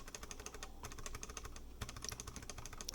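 Rapid keyboard typing on laser-ablated ABS keycaps, a dense flurry of light, fairly quiet keystroke clicks close up with no talking.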